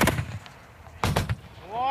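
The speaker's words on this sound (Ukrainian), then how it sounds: "Ось яка канонада з градів лунала в одному з районів Донецька." A Grad rocket launcher barrage in Donetsk: two heavy booming blasts about a second apart, each with a rumbling tail, followed by a rising whistling tone.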